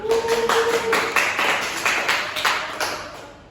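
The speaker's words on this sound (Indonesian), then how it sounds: "Tepuk tangan dulu." A class of students clapping hands together during an Indonesian-language lesson, a short burst of fairly close, overlapping claps that tapers off, with a faint tone early on.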